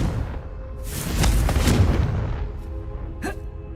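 A fiery blast from the Confringo spell in Hogwarts Legacy swells into a loud, broad rumbling explosion that fades over a couple of seconds, followed by a short sharp crack.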